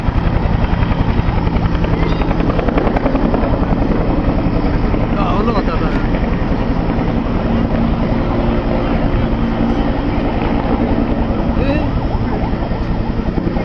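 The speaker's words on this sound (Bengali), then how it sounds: "হেলিকপ্টারটি এখন অবস্থান নিচ্ছে।" A Bangladesh Air Force training helicopter moves into position, its loud, close rotor drone beating continuously and evenly throughout.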